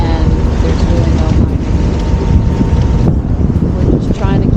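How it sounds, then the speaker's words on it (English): Strong wind blows over the ocean off the Georgia coast and roars steadily across the microphone aboard a small boat, loud, close and buffeting without letup. "The wind is kind of just blowing off land toward the ocean"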